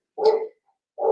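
Two loud, close dog barks separated by a short pause, the second cut off at the end, with no talk around them.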